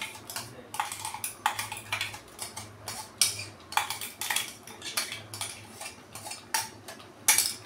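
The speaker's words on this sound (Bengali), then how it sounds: "এই নারকেল বাটাটাও আমি এর মধ্যে দিয়ে দেবো" Ground coconut paste is spooned into a pan of cooked spice mix for a prawn and pointed gourd filling, giving a close run of metallic clinks and scrapes with no talking.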